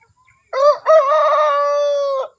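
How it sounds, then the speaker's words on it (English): A rooster on a farm gives a single loud, close crow, a short rising note followed by a long sustained call lasting under two seconds, alone without talk. "This is our newest rooster."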